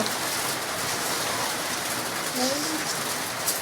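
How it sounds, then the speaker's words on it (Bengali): Rain falls steadily outside a home in Bangladesh, a dense even hiss heard from indoors, with a faint voice briefly in the background. "বাইরে বৃষ্টি হচ্ছে"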